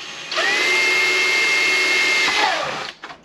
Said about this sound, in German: Ist ganz leicht zu bohren.